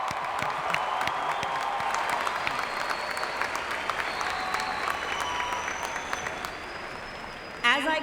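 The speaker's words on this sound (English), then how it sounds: "I think they too deserve a round of applause." An audience at a graduation ceremony applauds the faculty with sustained, even clapping that fills the hall from start to finish. The clapping holds at a steady level, with a brief louder burst near the end.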